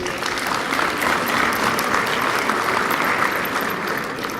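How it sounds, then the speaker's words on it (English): A dense, steady round of applause from a university audience fills the whole stretch, sustained many-handed clapping at even loudness with no voices. "Please give them a round of applause"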